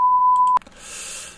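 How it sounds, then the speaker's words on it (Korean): A PLC trainer buzzer sounds on a UCR trip as a steady, loud electronic tone for about half a second, then cuts off with a click, leaving faint hiss. "자, 요 부저 울린지 보세요"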